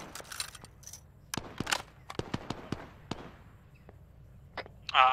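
Mortar fire in the video game Arma 3 set in Vietnam: a series of sharp, irregular booms and cracks at middling distance, some close together, with a brief louder burst at the end and no talk.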